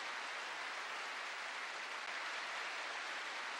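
Warm applause filling an arena in a video game scene at a skating rink; a continuous, even wash of many hands clapping at a moderate, distant level, with no voices over it.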